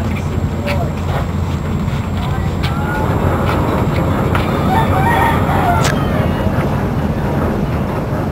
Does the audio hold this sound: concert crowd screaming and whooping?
no